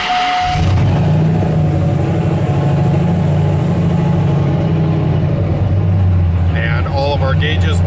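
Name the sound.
truck engine running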